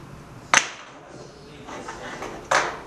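The clamp of a 3D sublimation heat press machine opens with two sharp metallic clacks about two seconds apart, close and moderately loud over a low background hiss.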